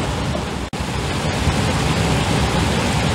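Creek water rushing along a mountain trail near Jewel Lake in Rocky Mountain National Park, a loud, steady broadband roar close by with a brief dropout, no voices.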